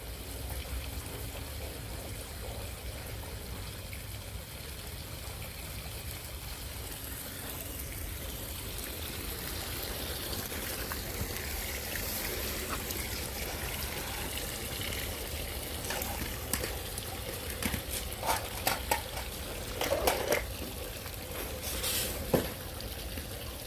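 A backyard chambered sump pump system discharges water onto a driveway, giving a steady rushing, trickling flow throughout with a few sharper splashes and knocks toward the end.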